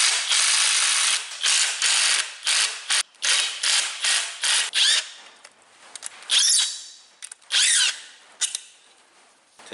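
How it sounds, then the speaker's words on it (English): A hand ratchet loosens the bolts on a Mercury boat outdrive, its pawl rattling loud and close in repeated bursts of fast clicking strokes with short pauses between swings. "I'll use a ratchet for that."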